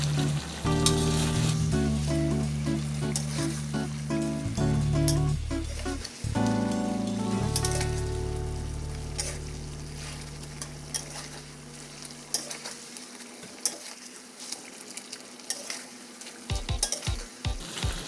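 Snakehead fish and curry paste stir-fried in a pan with seasoning, a steady loud sizzle with scraping and stirring clatter, fading to quieter intermittent sizzling and a few utensil knocks near the end; no talking.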